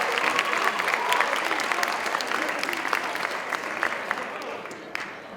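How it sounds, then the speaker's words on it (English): An audience at a high school winter sports awards night gives parents and guardians a steady, full round of applause. The sustained clapping fills the room and fades slightly toward the end. "So a big round of applause for the parents and guardians."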